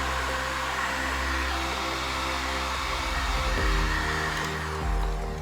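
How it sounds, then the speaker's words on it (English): A heat gun shrinks heat shrink tubing over combat robot wiring, giving a steady, loud blowing hum with a low motor drone. It runs without a break and no one speaks. "I'm again using the heat gun"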